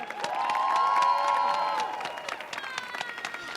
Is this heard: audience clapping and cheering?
yes